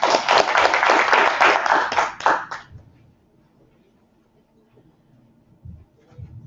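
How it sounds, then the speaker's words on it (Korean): Audience applause at an academic conference session, a dense burst of clapping that runs loud for about two and a half seconds and then stops abruptly, leaving a quiet room with faint shuffling. "박수로 부탁드리겠습니다"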